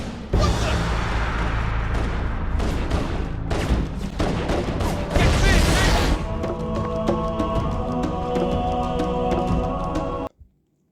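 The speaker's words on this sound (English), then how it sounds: "watching as crew members are gunned down before my eyes" Dense gunfire from the Halo: Combat Evolved video game aboard a ship under attack, loud bursts of automatic fire and heavy thumps layered with game music, ending abruptly.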